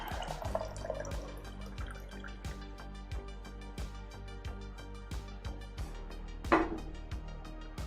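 A beverage poured into a glass, a close, steady run of liquid with rhythmic gurgling drips and a brief louder splash near the end, with no talking.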